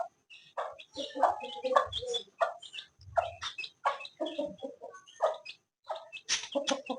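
Chickens cluck and squawk repeatedly in quick bursts close by, a lively farmyard chatter with short gaps between calls.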